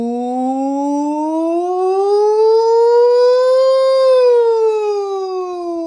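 A singer's voice imitates a siren with one sustained, clear tone that glides slowly upward and then slides back down, loud and close, with no other sound.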